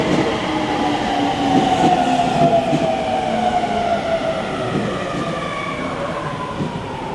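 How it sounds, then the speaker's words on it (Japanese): A Sobu Line local train pulls into the platform at Kinshicho station, a steady loud rumble of wheels and cars with rising and falling squealing tones as it slows, no voices over it. "まもなく各駅停車千葉行きが参ります。"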